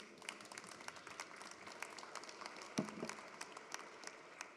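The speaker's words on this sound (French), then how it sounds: "Je pense qu'on peut l'applaudir." A conference audience applauds after a talk at an international colloquium, a faint, steady patter of many hands heard from a distance, with one louder knock partway through.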